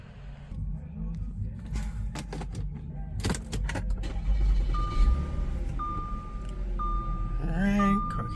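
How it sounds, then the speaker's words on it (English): An Audi starting up after work on its rain sensor, with an engine catch and rising idle rumble, a few clicks, and a steady chime repeating near the end. "I'm gonna start the car up"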